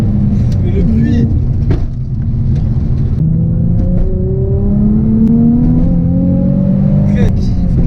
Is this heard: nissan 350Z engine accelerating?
yes